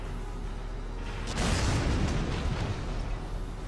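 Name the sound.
mortar strike explosion in video game Valkyria Chronicles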